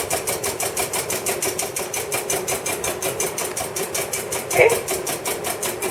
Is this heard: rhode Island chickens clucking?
no